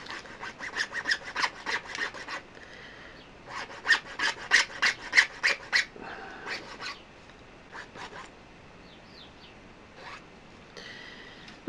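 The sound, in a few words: filing a giant rod ring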